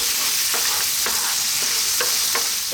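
Black raisins fry in butter in a pan for lamb biryani, giving a constant close sizzle with soft periodic scraping as they are stirred.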